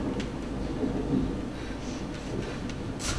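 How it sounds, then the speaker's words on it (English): A thunderstorm sound effect plays during a stage play in a theatre, a continuous loud rumble with hissing rain and a brief crackling burst near the end, with no voices. "A storm is on its way."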